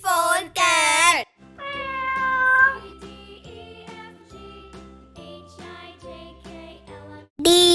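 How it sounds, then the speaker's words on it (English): A cat gives two loud, close meows at the start and another at the end, with gentle tinkling music playing in between. "C for cat."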